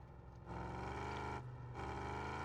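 UAZ car engine in the driving game Drive Beyond Horizons, a steady loud droning rev with a layered harmonic whine that dips briefly and climbs again, alone without talk.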